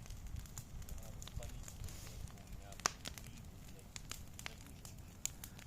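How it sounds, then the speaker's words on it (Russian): A big campfire of felled trees burns steadily with a broad roaring rush and scattered sharp crackles and pops, one pop standing out, outdoors near trees. "и развели пионерский костер из срубленных деревьев."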